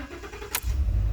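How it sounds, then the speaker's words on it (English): A 2014 Ford F150 engine cranks briefly and catches, settling into a loud, steady low idle rumble that fills the rest of the moment, close by and with no talking. "Go ahead and crank your vehicle"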